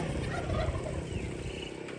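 A penful of Thai ducks on a farm chatters continuously, a dense, raspy babble of overlapping calls without pause.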